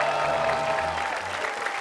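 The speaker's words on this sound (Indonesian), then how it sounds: "Tias Mirasi, tepuk tangan" Studio audience applauds a newly introduced judge, Tias Mirasi, on an Indonesian talent-show stage, a steady wash of clapping lasting about two seconds, with low tonal hum or music beneath it.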